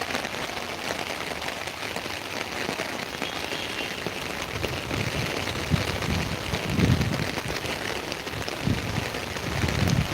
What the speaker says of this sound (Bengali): আমার চারিদিকটা একদম খুব বৃষ্টির মধ্যে